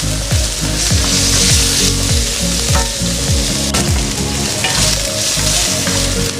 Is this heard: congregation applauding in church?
no